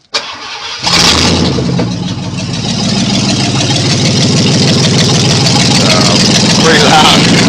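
A 1990 Ford F150 with its 302 V8 cranks and fires, then runs loud and rough without headers or exhaust fitted, a raw steady roar close by that continues throughout.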